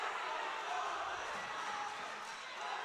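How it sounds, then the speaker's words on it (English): A high school wrestling crowd and team bench reacting to a takedown in a Sussex Tech versus Caesar Rodney match, a steady, fairly distant roar of cheering and shouting from a gym audience. "The bench and the crowd really liking this."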